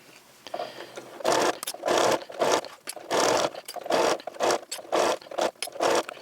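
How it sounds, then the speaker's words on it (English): A sewing machine stitches down a quilt binding in bursts of rapid whirring, about eight runs with short pauses between them, close and clear. "now I'm basically going to sew down to the corner"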